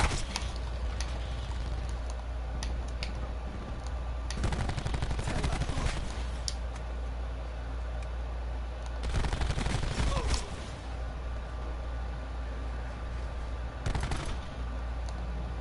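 Automatic gunfire from the Maddox and Saug in Call of Duty Black Ops 4, with steady background game ambience and several dense bursts of rapid fire, the longest two running a second or more, at moderate loudness.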